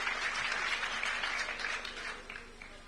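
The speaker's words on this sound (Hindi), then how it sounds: "चाहूंगा जोरदार तालियां भुवनेश्वर बघेल जी के लिए।" A seated crowd in an auditorium claps for a guest at a Hindi panel discussion, a short burst of fairly quiet, dense applause heard from a distance that thins out over a few seconds.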